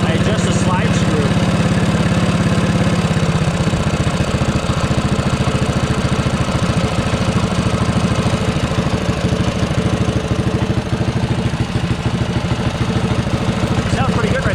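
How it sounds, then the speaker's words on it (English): A poorly running mini bike's small engine idles steadily and loudly throughout while its carburetor slide screw is adjusted, a constant rumbling putter with a slight shift in tone early on. "So now that it's idling its highest, I adjust the slide screw."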